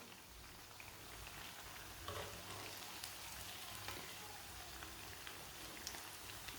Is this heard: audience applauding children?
no